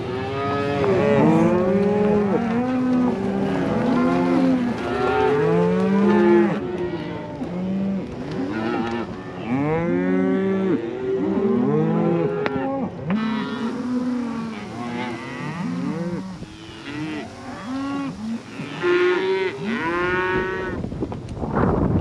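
Cattle being driven up to mountain pasture moo repeatedly and loudly, many overlapping calls from several animals close by, with a few brief gaps between bursts.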